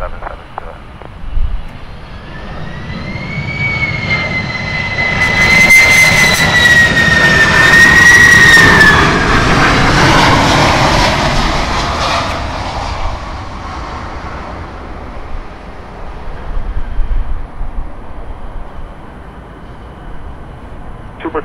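A heavy jet airliner lands at a South Florida airport, its engine roar swelling to a loud whining peak as it passes, then fading into a distant rumble with faint clatter.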